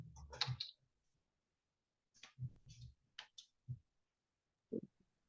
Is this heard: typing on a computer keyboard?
yes